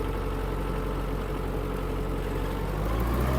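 A Kubota X-20 Japanese mini tractor's engine runs steadily in third gear, with a continuous close mechanical drone that swells slightly louder toward the end. No voices are present.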